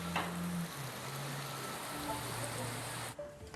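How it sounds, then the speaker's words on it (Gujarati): Steady hiss of afternoon rain falling in Vadodara, Gujarat, a dense even wash of sound with no voices, cutting off abruptly near the end. "ગ્રામ્ય વિસ્તારોમાં પણ વરસાદ પડી રહ્યો છે"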